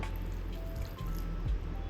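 Leftover whey water from making paneer is poured out onto plants, a soft trickle and dripping splash that runs quietly and continuously throughout.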